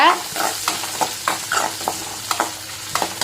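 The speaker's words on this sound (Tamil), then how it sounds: "சின்ன வெங்காயம் போட்டாச்சு இப்போ வந்து நல்லா வந்து வதக்கி விடுங்க" Small onions sautéing in a pan for pearl millet vermicelli, a steady sizzle broken by repeated scraping stirs of the spoon, close and fairly loud.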